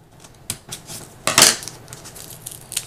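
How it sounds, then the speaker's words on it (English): Straight scissors snip paper while trimming excess from a scrapbook layout, giving a few sharp, close cuts, one loud crisp snip standing out among lighter clicks. "you can come back with the straight scissors again and trim off any excess"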